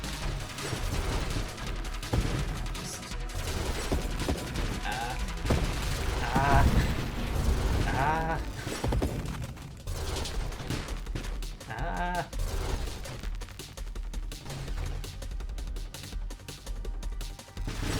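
Enemy ships explode in the space shooter Nova Drift, a busy stream of bursting blasts, crashes and rapid gunfire-like pops over constant game noise, with a voice talking over the action.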